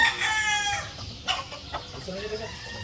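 A Boston Roundhead rooster lets out a single loud, drawn-out crow close by, then soft clucks and farmyard noises follow.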